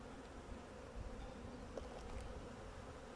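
Honey bees at an open hive being readied for winter buzz steadily as a faint, even hum, with a few soft knocks and handling noises and no voices.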